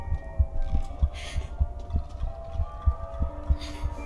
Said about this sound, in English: I'm gonna have a heartbeat and that's gonna be so annoying